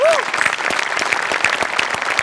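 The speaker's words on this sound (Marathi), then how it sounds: "सगळ्यात आधी सचिन मोटे आणि अभिजित पवारसाठी जोरदार टाळ्या." A studio audience at a Marathi comedy show claps in a dense, continuous burst of applause. A brief high whistle rises near the start.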